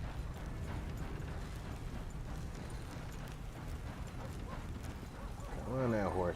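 Horses' hooves clip-clop steadily in the Red Dead Redemption video game, a continuous rhythmic trotting under ambient game noise, with a brief louder burst near the end.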